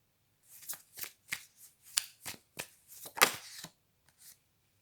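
Tarot cards riffled and shuffled by hand in a run of about ten quick crisp bursts, close and clear over near silence, with no voices.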